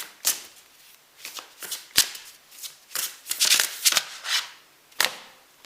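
A deck of oracle cards being shuffled by hand, with soft riffling and flicking bursts in an uneven rhythm, close and fairly quiet, with no talk.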